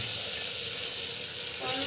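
A steady, bright sizzle of spices sautéing in a hot pan, continuous and close, with no pauses.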